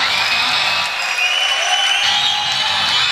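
Crowd applause at a 2010 world bodybuilding championship as an Azerbaijani athlete takes the stage, a loud continuous wash of clapping and cheering heard up close.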